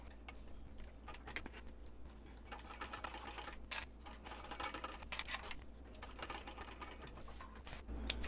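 A sewing machine runs long basting stitches along a wristlet, producing a rapid, even mechanical ticking and whirring at close range, quiet and continuous with no speech.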